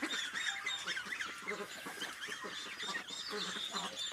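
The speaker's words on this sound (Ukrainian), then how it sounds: "І ось качки пруть." A flock of ducks quacks and chatters busily nearby, many overlapping calls in a continuous noisy stream, with a voice briefly present.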